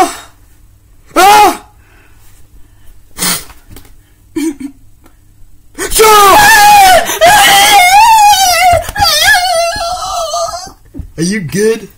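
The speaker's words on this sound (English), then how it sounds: "You sneezed!" A sneeze amid a lively, noisy exchange of excited voices, with short bursts early on followed by a long stretch of loud overlapping shouting and squealing.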